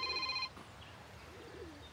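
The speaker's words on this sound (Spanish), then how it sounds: "¿Quién te está llamando?" A telephone rings with a bright electronic trill that lasts about half a second and then cuts off, leaving quiet room tone and faint background sound.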